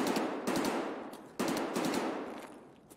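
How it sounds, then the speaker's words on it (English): Automatic gunfire in the shooter game Escape from Tarkov: two long bursts of rapid shots, distant and fairly faint, each fading with echo. "anytime you hear automatic fire, you pretty much gotta believe it's a PMC."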